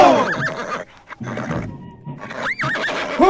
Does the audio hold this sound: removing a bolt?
no